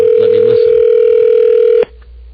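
Telephone ring tone on a business line call, a loud steady tone holding for nearly two seconds and then cutting off to quiet line hiss.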